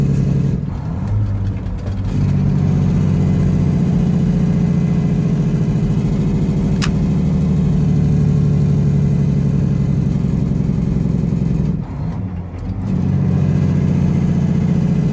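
A 730hp Detroit diesel truck engine with a new turbine housing pulling hard on a road test drive: a loud, sustained low drone that drops briefly during gear changes near two and twelve seconds, then climbs again.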